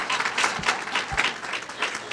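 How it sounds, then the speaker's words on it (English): A nursing college graduation audience applauds, a dense sustained burst of clapping from a sizable crowd, loud and close, with a couple of low thumps mixed in. "let's clap for them in spirit."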